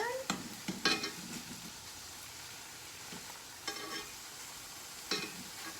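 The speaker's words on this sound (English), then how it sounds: "Our sausage is cooking nice in our cast iron." Sausage frying in a cast iron pan, a soft steady sizzle running under a few sharp clanks and scrapes of utensils on the pan.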